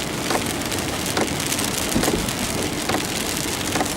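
Steady rain falls in Weston Creek, a dense continuous patter on surfaces with recurring louder drips and splashes, fairly close and without voices.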